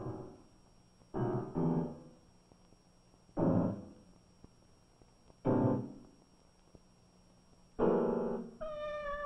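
A cat gives four or five close, clear meows spaced a second or two apart, with a soft purring rumble between them and a rising final cry.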